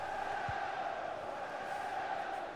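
Stadium crowd in a football video game with Liverpool at home, a steady, echoing roar and chant held throughout at moderate level, with no clear individual voices standing out.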